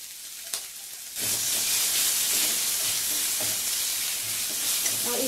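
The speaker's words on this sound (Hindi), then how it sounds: "और इसे हम अच्छे से फ्राई कर लेंगे।" Crushed ginger and garlic hit hot oil with cumin in a pan and break into a sudden loud, steady sizzle with hissing steam that holds to the end, with faint stirring knocks underneath.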